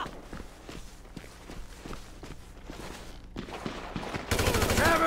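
Gunfire in GTA V at North Yankton: a rapid series of sharp shots in an irregular burst over rumbling background, building to a loud dense volley with a harsh, bright noise in the last second.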